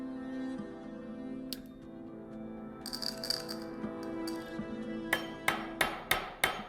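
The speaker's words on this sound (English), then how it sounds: "So I've flattened the overlapping ends of the ring and I've pierced a hole through it." Metal mail rings are hammered flat at their overlapping ends, a run of sharp, close metallic strikes that ends in several evenly spaced blows over faint workshop rattle.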